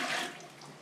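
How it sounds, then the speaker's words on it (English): Water poured into a pressure canner for home-canning sausage, a short broadband rush that swells quickly and then eases off, close and fairly quiet with no voices. "I'm going to put the water in it"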